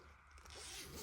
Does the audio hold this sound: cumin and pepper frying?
no